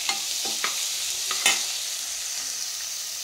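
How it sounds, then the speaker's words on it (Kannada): Onions frying in oil over a high flame, a steady close sizzle with a few brief scraping stirs early on and one sharper clatter midway. "ಈರುಳ್ಳಿ ಸಾಫ್ಟ್ ಆಗೋವರೆಗೂ ಆಯಿಲಲ್ಲಿ ಫ್ರೈ ಮಾಡ್ಕೊಬೇಕು."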